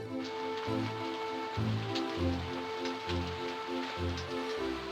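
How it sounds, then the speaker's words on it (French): Heavy rain pours down in a steady, hissing patter over a rhythmic musical accompaniment, with the downpour sustained throughout. "il commença à pleuvoir très fort"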